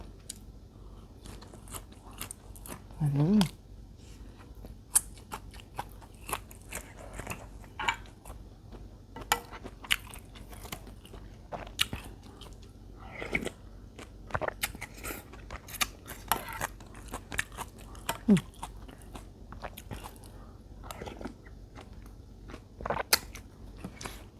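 Someone eating noodle soup loaded with meatballs plus grilled meatballs, with soft crunchy bites, chewing and clicks of utensils spaced irregularly over a quiet background, close and without speech.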